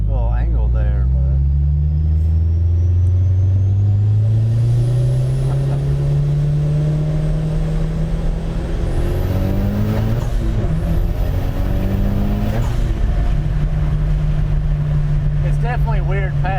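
A Mitsubishi Evo VI drives along a road, its engine loud and close, droning steadily with revs climbing and easing back through gear changes, while voices are faintly present under the engine noise.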